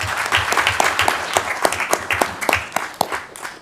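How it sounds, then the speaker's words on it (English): Applause from an audience at a city council special meeting, a steady wash of clapping with a few louder individual claps standing out near the front, running the whole time with no talk over it. "Another round of applause, please."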